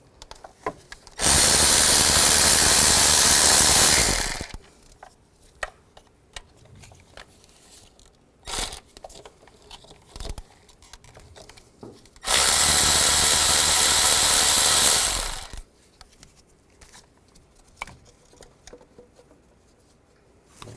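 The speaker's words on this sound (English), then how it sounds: "You're going to use a 10mm socket. Take all those bolts out." Valve cover bolts coming off a 2005–2015 Nissan Xterra, removed with a powered tool and 10mm socket in two loud, steady whirring bursts of about three seconds each, separated by quieter clicks and handling noises.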